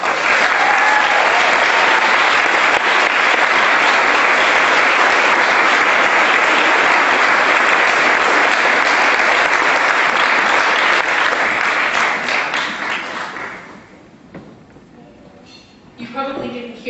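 An audience applauds at the 2014 Smith College Pioneers Hall of Fame ceremony. The loud, sustained clapping fills about twelve seconds, then fades away, leaving quiet room sound with a few faint noises.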